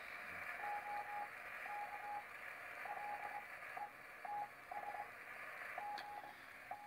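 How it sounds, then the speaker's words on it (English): Morse code from a ham radio operator, picked up on a receiver and fed through an interface: a steady tone keys on and off in short dots and longer dashes over a continuous bed of hiss and static, with no voices. "I found a ham operator using Morse code."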